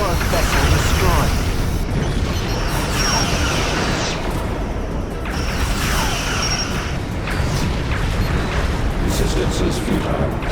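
A Borg vessel blows up in the Star Trek: Legacy video game, heard as a loud, sustained, rumbling wash of explosion noise with booming surges over about ten seconds.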